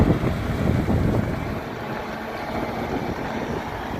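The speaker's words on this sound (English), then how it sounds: "There's a front moving in. Wind's picking up." Wind gusts outdoors as a weather front moves in, a steady low rushing roar that buffets the microphone, strongest at the start and easing slightly, with no voices.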